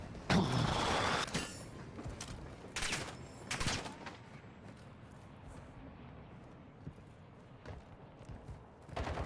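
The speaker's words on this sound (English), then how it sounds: "You are taking effective fire." Gunfire in the shooter game Call of Duty DMZ: sharp shots and short bursts crack out near the start and again around the middle, over a steady background, with an occasional later pop.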